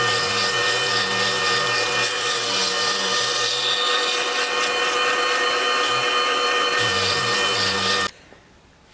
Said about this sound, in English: So now I'm just going to tidy up the ends with the end mill.